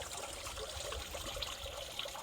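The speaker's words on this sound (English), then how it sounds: "You can see the water channeling down here." Meltwater from icy ground channels into a cleared storm drain on a freezing January night in Somerset, giving a steady, close trickling wash that runs without a break and with no talk over it.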